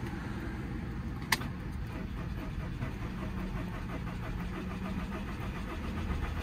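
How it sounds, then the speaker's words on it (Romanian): A Volkswagen Passat B6 with no battery power starts and runs, a low, steady engine rumble after a single sharp click, heard close with no talking. "Hai că pornește, tată."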